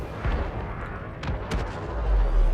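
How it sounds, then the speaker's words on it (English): A target blows up in a video game with a loud, close boom, then a rumbling spread of blasts and bursts that hold on through the end. "Kaboom! Target destroyed."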